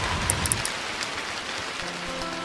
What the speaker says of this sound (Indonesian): Sepanjang malam, hujan dan angin datang bergantian.